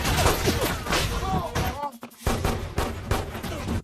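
Sniper gunfire in an action film, heavy shots and fusillade-like bursts over a dense, loud battle soundtrack with music and crashing effects.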